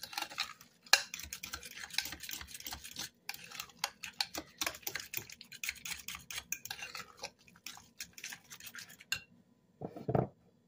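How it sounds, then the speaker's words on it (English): A spoon stirs a mayonnaise-style egg or tuna salad mixture in a bowl at home, giving steady scraping and rubbing strokes close by, with brief pauses and a soft knock near the end; no talking. "So I'm going to mix that well"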